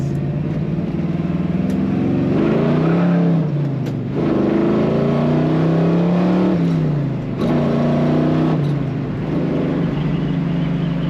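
A 1969 Chevrolet Camaro RS Convertible's V8 engine revs up through several gears in turn, each pull rising in pitch before a brief dip, with a deep, aggressive exhaust rumble.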